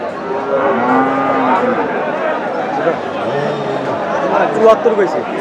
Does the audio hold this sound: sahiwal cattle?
yes